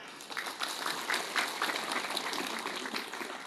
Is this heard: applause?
yes